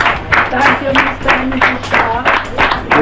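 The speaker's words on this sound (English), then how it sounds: "we'll give them a round of applause, please" A small group claps for Mr. and Mrs. Shaw at a new family home's unveiling in Jamaica, with bursts of applause rising and falling beneath someone speaking in the foreground.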